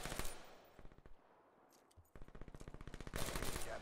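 Rapid automatic gunfire in a Call of Duty-style online match, with close bursts at the start, a short lull, then a long sustained volley of rapid shots growing louder toward the end.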